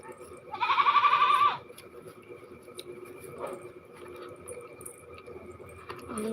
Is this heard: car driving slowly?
no